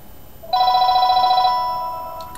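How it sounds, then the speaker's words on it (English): An electronic telephone ring starts abruptly, a loud warbling trill that holds for about a second, then trails off into a fading tone over quiet background noise. "The phone."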